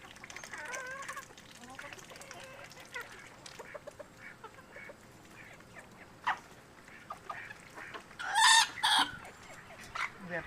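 Bantam roosters crow on a small farm among other fowl, with repeated clucking and a loud, close cock-a-doodle-doo near the end, over faint background voices.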